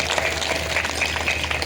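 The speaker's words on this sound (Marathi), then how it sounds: "गणपती बाप्पाला टाळ्या वाजवा एकदा" An audience at a kirtan claps together in a dense, steady burst of applause that fills the space at close range, with a low hum running underneath.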